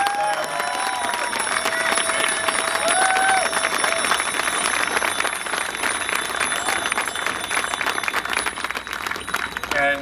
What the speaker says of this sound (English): And I think we should give her a round of applause for what she was doing.